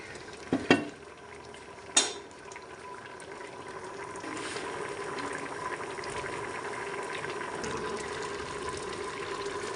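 Black chickpeas with turmeric, salt and chili in a little water are stirred in a pot: two sharp clinks of a spoon against the pot's rim early on, then a steady soft bubbling and scraping that carries on alone without talk.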